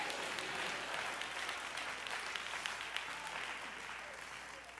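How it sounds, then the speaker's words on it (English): A church congregation claps steadily through an Easter Sunday service, a dense sustained wash of applause mixed with murmured voices that fades slightly toward the end. "Clap your hands and shout, thank you, Jesus."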